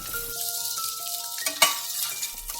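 Potato wedges sizzle steadily in hot oil in a pan, a soft continuous fry with a faint clink of a utensil partway through.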